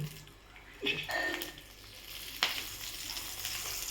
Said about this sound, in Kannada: ಉದ್ದಿನಬೇಳೆ, ಕಡಲೆಬೇಳೆ, ಅರಿಶಿನ ಪುಡಿ ಹಾಕಿ ಕರಿಬೇವಿನ ಸೊಪ್ಪನ್ನು ಹಾಕಿ